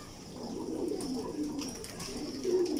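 Pet pigeons cooing in a loft, soft repeated low rolling coos close by, a few overlapping, faint against quiet room noise.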